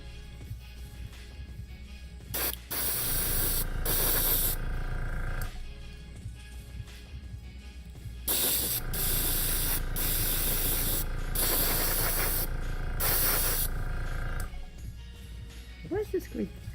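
Spray paint hisses from an aerosol can onto a 3D printed D.Va project in several long close bursts separated by short pauses, with a person talking briefly in between.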